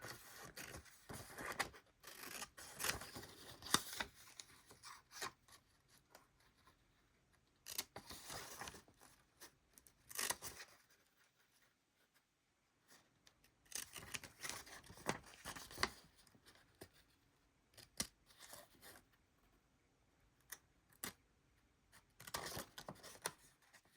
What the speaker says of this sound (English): I didn't bring my fussy cutting scissors, just these giant ones